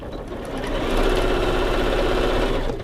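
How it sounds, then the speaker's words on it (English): A sewing machine runs steadily as it stitches a seam shut on a framed poinsettia holiday mini quilt, a continuous close mechanical whir with a low rhythmic hum lasting the whole time, with no talking. "now we're going to sew that shut"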